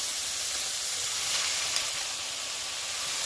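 Squid sizzling steadily in a hot pan as adobo cooks, a loud, even frying hiss with no talking.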